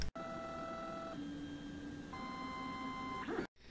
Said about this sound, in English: the 3D printer emits audible sound